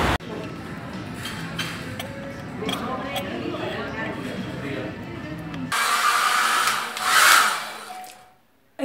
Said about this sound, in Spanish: Estoy aprovechando que me estoy secando el pelo para contestar mensajes